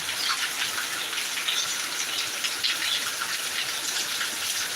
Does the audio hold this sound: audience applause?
no